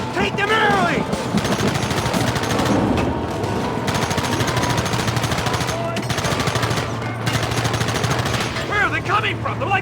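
Dense, loud gunfire from a shootout in the Western video game Red Dead Redemption, rapid bursts and scattered shots running continuously throughout, with shouted voices and music mixed underneath.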